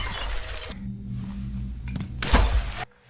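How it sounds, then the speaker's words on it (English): Liquor bottles smashed with a bat make two sharp bursts of shattering glass, the second louder and followed by tinkling debris, with a low hum between them. "takes out a bat and starts smashing liquor bottles"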